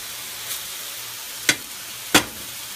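Chicken cooking in a regular skillet gives a steady, soft sizzle, with two sharp utensil taps against the pan near the end.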